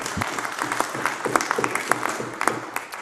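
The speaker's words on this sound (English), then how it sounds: "I thank everybody for the round of applause." Members clap in a parliament chamber during First Minister's Questions, a fairly close round of applause with distinct individual claps and a few voices murmuring underneath.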